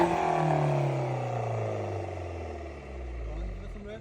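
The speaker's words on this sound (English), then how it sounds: "we're gonna open up the valve now." A BMW 118i with a valved exhaust back box, valve open, revs up loud and close, then the engine note slowly falls and settles back toward idle with a deep drone.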